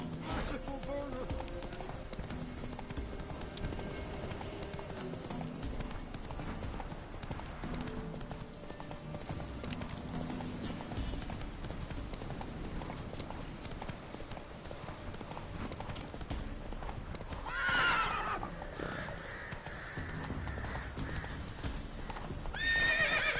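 Roach the horse gallops in The Witcher III, with steady, rhythmic hoofbeats running under background game noise throughout. There is a whinny near the end.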